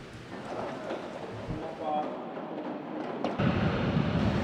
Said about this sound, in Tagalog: patuloy ang pagbuhos ng ulan at pag-ihip ng napakalakas na hangin dito sa may Batangas Port